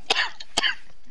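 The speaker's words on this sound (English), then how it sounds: "He always coughs afterwards because he has asthma." Two sharp coughs from a man with asthma, close to the microphone, then a fainter third cough at the end.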